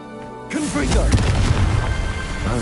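A Confringo spell explodes in Hogwarts Legacy: a quiet tonal start gives way to a loud, sustained rumbling blast with crackling debris, while a voice speaks over it.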